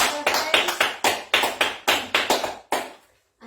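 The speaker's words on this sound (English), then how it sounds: "Should we give them all a big clap because it's your birthdays?" A small group of children at a baby and toddler birthday celebration claps in a steady run of close, sharp hand claps for about three seconds, then the clapping fades and stops.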